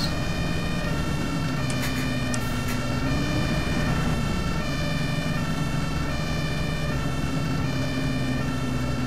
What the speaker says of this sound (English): Yeah, here we go, there's an ambulance.